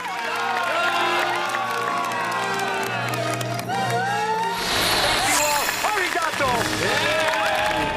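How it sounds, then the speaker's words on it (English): A crowd at a world record attempt cheers and shouts loudly, a dense roar of excited voices with some clapping and children shouting, rising in a burst midway. "And the crowd go wild."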